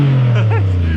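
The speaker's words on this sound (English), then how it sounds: "made the exhaust sound awesome" An Audi Allroad engine revs loudly with a raw, throaty exhaust note from fallen-off oxygen sensors, close by and sustained for about a second, with rising tonal sweeps over a deep rumble.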